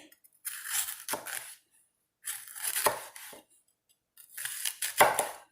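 A knife cuts turkey neck into strips on a board in three separate bursts of crunchy slicing and scraping, close and distinct, with short silences between strokes.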